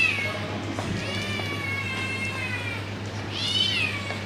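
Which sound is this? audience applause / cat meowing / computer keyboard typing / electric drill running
cat meowing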